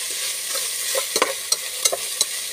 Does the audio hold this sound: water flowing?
no